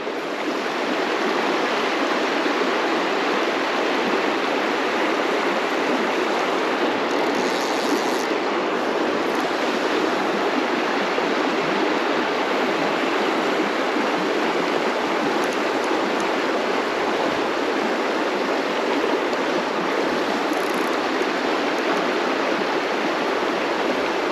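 Fast-flowing river water rushes in a constant, loud broadband roar at a fly-fishing spot for brown trout, steady throughout with no breaks.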